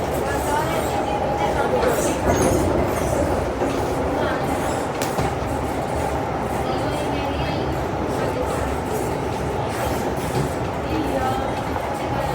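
An MTR Island Line M-Train runs between Chai Wan and Quarry Bay, giving a continuous loud rumble with rhythmic wheel clatter and brief squeals throughout, with no one speaking over it.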